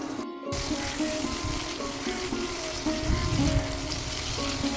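Chopped tomatoes sizzle in spiced oil for begun bahar, a steady close crackle with occasional stirring scrapes, after a brief silent gap at the start, no talk.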